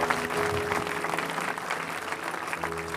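A church congregation applauds Jesus with sustained, loud clapping that fills the room, steady and continuous throughout.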